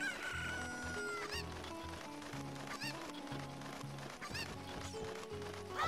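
Chickens cluck and a rooster crows in Zelda: Ocarina of Time, close and clear over looping background game music, with repeated clucks throughout.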